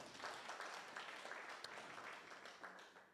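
Brief, faint applause from an audience at a training curriculum launch, thanking sponsors; a soft, even patter of clapping at a distance.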